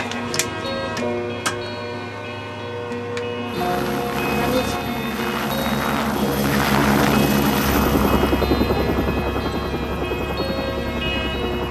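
A helicopter flies close by, its rotor thumping in a steady fast rhythm, with a loud engine whine and rushing wind that swell and hold.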